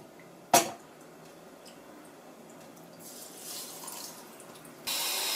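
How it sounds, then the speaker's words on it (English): Running tap water rinses foam inserts and filtration media during an under-sink water filter installation, a soft faucet hiss building toward the end with a brief splash near the start; no talking. "Give it one more quick rinse."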